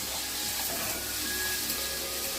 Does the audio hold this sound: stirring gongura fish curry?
yes